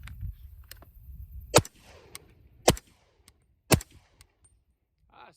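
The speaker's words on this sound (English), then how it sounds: "I'm going to shoot a couple of rounds into the dirt just to see what it sounds like." Three sharp suppressed .300 Blackout rifle shots from a short-barreled Witt Machine & Tool Dirty 30 fired into dirt, each a loud crack spaced about a second apart, with quiet pauses and faint clinks between.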